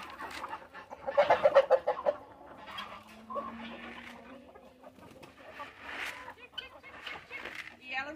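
Chickens cluck repeatedly in a rural yard at late afternoon feeding time, strongest near the start with loud bursts around the first two seconds, then softer intermittent clucks continuing beneath a person's speech.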